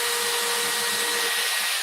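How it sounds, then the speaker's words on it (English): Power drill boring through material during a live workshop build, a steady continuous whir with a constant motor tone, loud and close, running alone without speech. "Now I've got to be very careful to not drill too far through."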